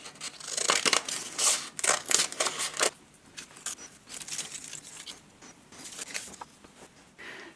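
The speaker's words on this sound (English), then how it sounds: "I'm going to fold the paper and save some time by cutting out" Scissors snip through folded paper for an autumn collage, a quick series of close crisp cuts in the first few seconds, then softer scattered snips and paper rustling; no talking.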